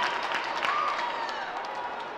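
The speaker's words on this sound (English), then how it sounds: "A beautiful save. And the crowd loved that one." A crowd at a boys varsity high school hockey game, Gloucester Fishermen against Woburn Tanners, applauds and cheers after a goalie's save, with steady, dense clapping filling the rink throughout.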